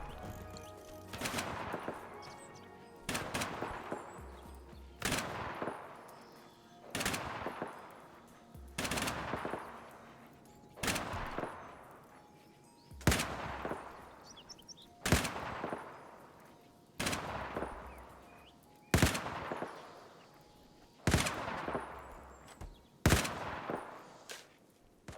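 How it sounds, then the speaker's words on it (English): Repeated bursts of video game machine gun fire, about a dozen short volleys spaced a couple of seconds apart, each ringing out with echo. "We shall never escape the sound of gunfire again."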